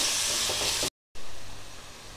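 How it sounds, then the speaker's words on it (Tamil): Potatoes frying in oil for a brinjal and potato gravy, a bright steady sizzle up close, broken by a short gap of silence and then a softer continuing hiss. "ஒரு 3 நிமிஷம் உருளைக்கிழங்கு நல்லா எண்ணெயிலேயே ஃப்ரை பண்ணியாச்சுங்க"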